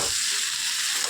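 Fried pointed gourd, potato and prawns are stirred in a hot pan, giving a continuous close sizzle with faint scraping and no talk.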